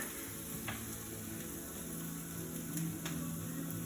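Sloppy joe mixture cooks in a pan with a faint, steady, low sizzle and a couple of light ticks, quiet and even across the moment with no voices.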